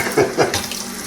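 A tap running hot water into a vintage Lodge #5 cast iron pan being rinsed after oven-cleaner treatment, a close continuous splashing hiss with brief surges.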